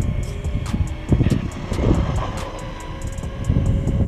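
A Traxxas Hoss RC truck tears along at full throttle and rounds a corner, its electric motor giving a loud, sustained high whine with gritty tire and drivetrain noise, rising and surging without letting up.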